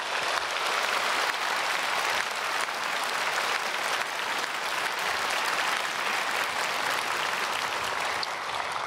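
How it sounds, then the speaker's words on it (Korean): A church congregation applauds to bless the children, giving steady, dense clapping that holds at an even level throughout, with no talk over it. "우리 모든 아이들 사랑하고 축복 박수하겠습니다"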